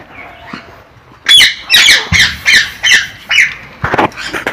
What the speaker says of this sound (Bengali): গাছ দেখুন এখানে টিয়া পাখি রয়েছে, কীভাবে কত সুন্দর আওয়াজ করছে।